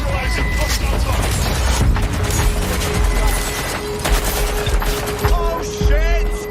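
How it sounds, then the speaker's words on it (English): Rapid gunfire crackles through a firefight in the video game Watch Dogs Legion, sharp shots and bursts stacked close together over steady background noise, with voices talking across it. "Shots fired!"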